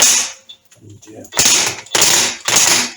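An impact wrench hammers in short loud bursts at a tight nut on a Triumph Trident T150V engine during a rebuild, three rattling blasts after a brief quiet pause with a few faint sounds.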